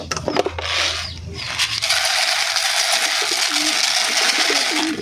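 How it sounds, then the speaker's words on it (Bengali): Pet pigeons coo in low, throaty bursts close by as feed is poured out for them, with a rattling scatter of grain and a steady hissing background. "পাখিরা কিছু খাবার দি, দাঁড়াও।"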